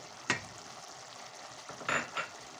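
A few scraping stirs in a pot of stuffed grape leaves with dill, over a low background sizzle, with one stroke early and two more close together near the end.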